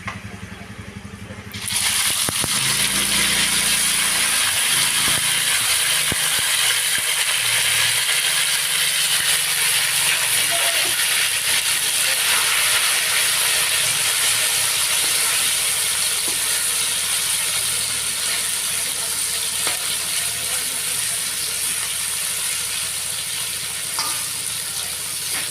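Fish sizzling and crackling steadily in hot oil in a pan, a dense, loud, continuous frying hiss that starts abruptly as the pieces go in and carries on evenly, with faint stirring.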